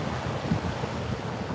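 Surf rolling in steadily at Fort Myers Beach, a continuous broad wash of ocean waves mixed with wind buffeting the microphone, loud and close with no voices.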